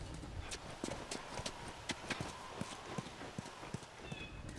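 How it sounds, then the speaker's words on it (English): Horse hooves clop steadily on a hard surface in the video game The Last of Us, a quick, uneven rhythm of sharp knocks over a faint background hiss. "looks like the horse isn't going to go up the stairs"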